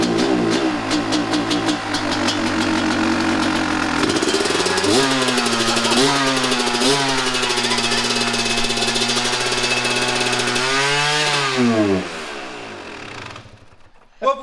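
Dirt bike engine that has run poorly for years, running with a steady idle and harmonic hum, with small throttle blips raising the pitch before it winds down near the end; voices talk over it.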